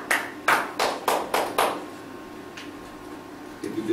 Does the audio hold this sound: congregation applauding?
yes